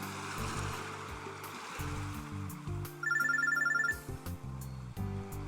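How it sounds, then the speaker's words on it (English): A phone droid ringing inside a bag in the visual novel game Robotics;Notes Elite, a bright electronic trill lasting about a second over game background music. "the phone droid in my bag starts to ring"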